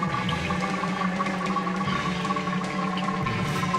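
Coolant drains from a Reliant's cooling system, gurgling steadily as trapped air bubbles out, a continuous low watery burble at moderate volume with no talk.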